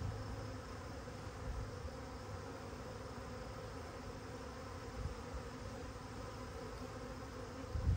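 Packaged honey bees being installed into a new hive make a continuous, even buzzing drone. It is close and fairly quiet, a dense swarm hum with no clear breaks and no one speaking.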